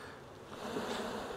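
Honey bees humming on nuc frames during a transfer into full-size equipment, a soft, steady buzz, close but faint, over a brief moment.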